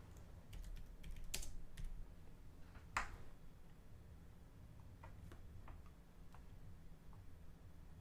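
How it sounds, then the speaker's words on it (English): Keys tapped on a computer keyboard during CNC design work in Vectric software, a few quick clusters of light clicks near the start and a sharper one after, then sparse soft taps over a faint room hum. "Use the right keyboard, Laney."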